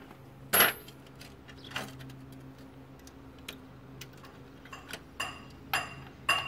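Metal sockets clink and tick against each other and a hard surface while being put away during a tractor cab removal, a few sharp bright chinks spaced irregularly over a quiet room hum.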